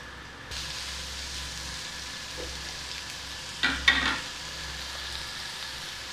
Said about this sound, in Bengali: পেঁয়াজটাকে দিয়ে দেবো।